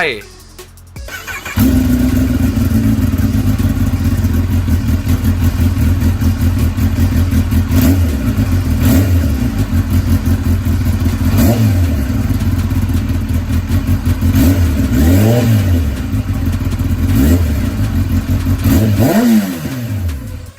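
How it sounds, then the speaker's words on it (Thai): Kawasaki Ninja ZX10R big bike engine: a loud, close, steady roar with a rising whine and several sharp throttle blips toward the end, preceded by a brief rough start. "มันคือคาวาซกินินจา ZX10R"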